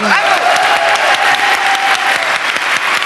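Loud, dense applause from a TV studio audience on a French talk show, many hands clapping close and steady with no break.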